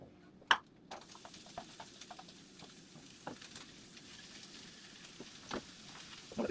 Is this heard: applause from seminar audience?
no